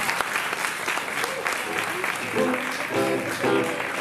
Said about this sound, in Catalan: fer un aplaudiment ben gran.